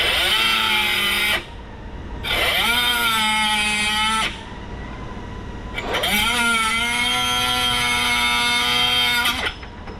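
Small cutter whirring through copper condenser lines, three long loud bursts with steady rising-pitched tones, separated by short pauses.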